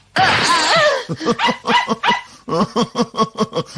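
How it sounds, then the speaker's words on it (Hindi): A dog barks and yips repeatedly in an animated cartoon, a long excited whining howl followed by a rapid series of short sharp barks, loud and close. "ये मेरा प्यारा डॉगी है।"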